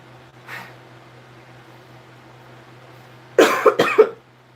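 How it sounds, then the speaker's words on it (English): A faint breathy sound, then a quiet pause, followed by two or three sharp, close coughs in quick succession over a low steady hum. "I might be coughing a little bit."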